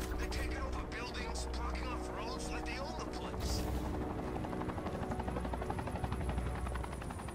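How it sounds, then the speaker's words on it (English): A helicopter in the video game Batman Arkham Knight flies past with a continuous loud rotor drone and a steady whine. "Hi, helicopter."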